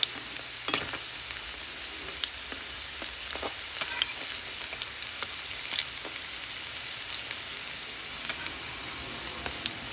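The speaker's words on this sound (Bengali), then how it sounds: "বড়াগুলোর এক পাশ ভাজা হয়ে গেছে, আর এক পাশ উল্টে দিচ্ছি" Lentil fritters frying in oil in a pan give a soft, steady crackling sizzle with scattered small pops, fairly quiet and continuous with no talking.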